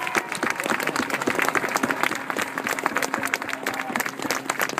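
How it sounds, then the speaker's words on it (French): Audience at an air show applauds, a dense steady wash of many hands clapping close and loud for the full stretch, with scattered sharper claps standing out. "Le public, l'applaudissement, c'est à toi."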